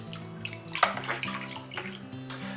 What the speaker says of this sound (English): we're going to hunt out our spoon and we're going to give it a good stir in